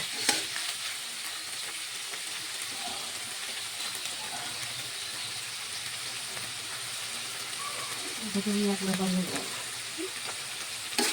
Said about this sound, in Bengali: পেঁয়াজটাকে সুন্দর করে ভাজি করতে হবে